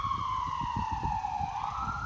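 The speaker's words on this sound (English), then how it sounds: "Got a little bit of ambulance action behind us on the road back there." An ambulance siren wails along a road some distance behind, a steady rising and falling tone over low traffic rumble and rhythmic background thumps, with no talking.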